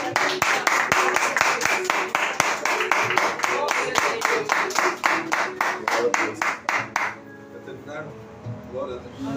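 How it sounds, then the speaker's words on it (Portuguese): A church congregation claps joyfully in a fast, steady rhythm, many hands together and fairly close, before the clapping stops abruptly and a voice speaks over quieter background. "Vamos aplaudir Jesus com alegria."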